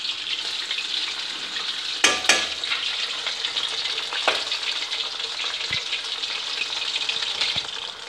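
Lahori chicken tawa pieces fry in a steady, close hiss of spitting oil, broken by a few sharp clinks and clatters.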